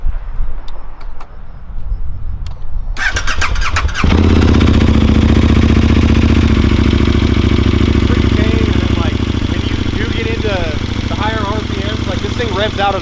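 German superbike engine cranks and catches about four seconds in, then holds a loud, steady rumble with rising revs close by, while voices chat over the running motor.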